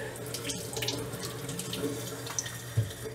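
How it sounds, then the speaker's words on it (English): Water runs steadily from a kitchen tap into a sink as hands are washed during home baking, a constant close hiss with faint background sounds. "I need to wash my hands and get them off."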